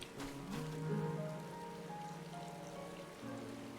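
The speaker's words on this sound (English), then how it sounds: "Still raining." Steady in-game rain patters throughout a Final Fantasy XIV scene, with soft tonal music drifting underneath at a moderate, even level.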